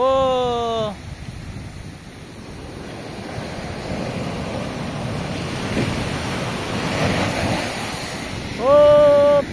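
Ocean surf washes onto a beach at The Sands in San Antonio, heard as a steady broadband roar with wind buffeting the microphone, while brief tonal sounds break in at the start and end.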